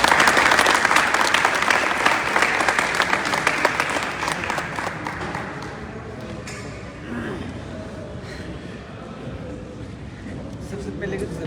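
A hall audience at a luxury-brand sales achievers' felicitation applauds loudly in sustained clapping that gradually fades into a softer murmur of crowd noise.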